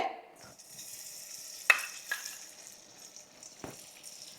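Ghee heating in a pot on a gas stove before vermicelli is roasted, giving a soft steady sizzle with a few brief sharp pops and clinks, fairly quiet and close, no talking.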